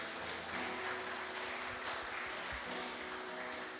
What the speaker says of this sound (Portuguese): Uma salva de palmas de alegria e de louvor a Deus.